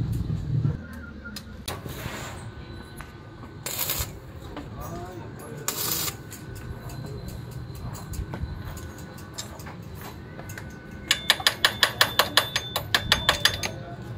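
Allen bolts are tightened on a motorcycle mag wheel during a Yamaha SZ150 wheel and disc brake conversion, with scattered metallic clanks and a rapid run of ratcheting clicks near the end, close up amid workshop noise and talk.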